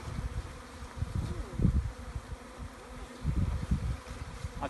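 A honeybee swarm being collected into a box hums and buzzes close by, a dense fluctuating drone with swells as bees move and settle.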